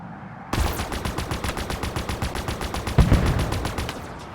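Rapid automatic gunfire in Halo Infinite's campaign mission Recovery, a steady string of sharp shots for about four seconds after a brief lull, loud and close with a heavier burst midway, no talk over it.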